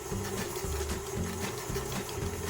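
A stand mixer with a paddle attachment beats butter and sugar in a bowl, giving a steady mechanical hum with a regular pulsing knock from the paddle, close and continuous, with no speech.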